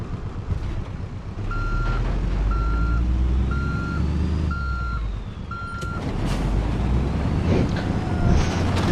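A bus reverses in a video game, its backup alarm giving five evenly spaced beeps over a low rumbling engine and mechanical whine, loud and close, with no speech.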